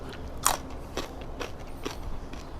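A bite into crispy grilled pork belly gives a few faint, sharp crunches spread over a couple of seconds, close to the mouth, over a quiet background with no talking.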